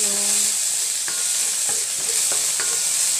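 Ginger sizzles in a little cooking oil with a bright, steady hiss, while a few soft stirring scrapes sound close by and no one speaks.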